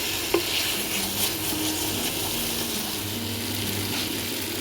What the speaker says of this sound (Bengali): আর পটলটা দিয়ে একটু ভেজে নেবো, মশলাটা দিয়ে ভালো করে কষে নেবো।